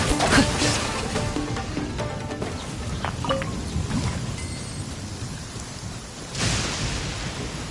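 The Rain Cutter skill in Genshin Impact sets off a dense, steady rain hiss with thunder-like rumbles and a sharp splashing burst near the end, loud and continuous with no voices.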